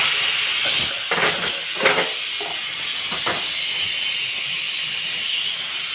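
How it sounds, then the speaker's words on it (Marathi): A pressure cooker whistles while spicy mutton rassa cooks, giving a loud, steady steam hiss with a few sharper bursts early on. No one speaks. "कुकरची शिट्टी झाली"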